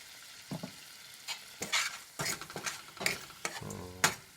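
Lemon rice is stirred and fried in a pan, giving irregular spoon scrapes and clatters over a quiet sizzle, with several sharper knocks against the pan.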